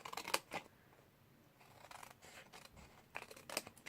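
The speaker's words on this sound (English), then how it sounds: "you want to cut at a slight angle," Scissors cut an angled notch in paper, a few quiet crisp snips in short bursts at the start and end with near-silence between.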